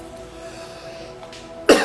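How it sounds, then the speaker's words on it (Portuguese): A single sharp cough bursts out near the end, close and loud, after a quiet room with a faint steady hum. "Tossidinha básica aqui."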